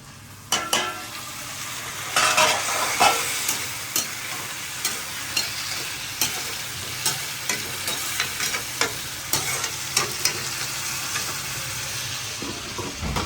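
Tomatoes frying with lightly browned onions in a pan while being stirred, a steady close sizzle broken by regular scraping spoon strokes that repeat roughly every second.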